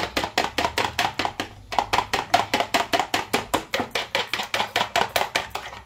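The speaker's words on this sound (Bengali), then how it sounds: "ফেটিয়ে নিচ্ছি" Eggs being beaten briskly with salt and pepper in a bowl, a fast, steady series of close, sharp clinks and taps of about four strokes per second, with a brief pause partway through and no talking.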